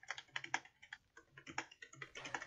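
Fingers type on a computer keyboard during EverQuest II play, a close run of quick, irregular clicks and clacks with no voices.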